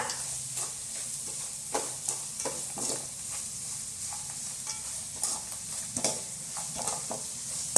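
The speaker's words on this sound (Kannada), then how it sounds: "ಈಗ ನೋಡ್ರಿ ಚಂದಾಗಿ ತಿರುಗಾಡ್ಕೋಬೇಕ್ರಿ ಇದನ್ನು ಫಸ್ಟ್ ಈ ರೀತಿ." Onion and fresh ginger frying in oil for masala rice, stirred with a utensil: a steady close sizzle with irregular scraping and clinking strokes throughout, no voices.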